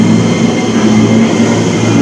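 A KRL commuter train rumbles loudly at a close station platform in the Jakarta commuter rail network, a steady low droning hum of motors and wheels with no voices.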